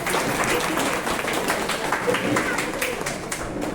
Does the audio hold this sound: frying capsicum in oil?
no